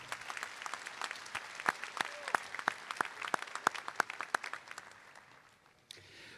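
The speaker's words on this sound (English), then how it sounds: "Please give them a round of applause as well." Steady applause from a large crowd at a graduation commencement ceremony, many hands clapping with a few sharp louder claps standing out, fading toward the end.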